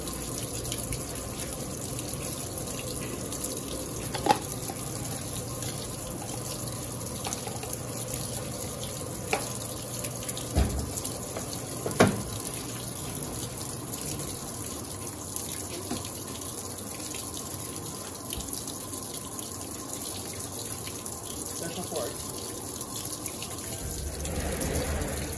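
Water gushes steadily into an Electrolux Turbo Aqua Jet LTA15 direct-drive washing machine as it fills with Ariel detergent for a load of towels, a continuous running-water wash with a few faint clicks, with no talking.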